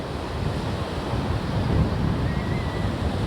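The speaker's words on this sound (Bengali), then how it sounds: "খালি ঢেউগুলো দেখো, এক একটা" Sea waves breaking on the shore at the beach in Puri, a continuous, close, roaring surf wash with wind noise buffeting the microphone.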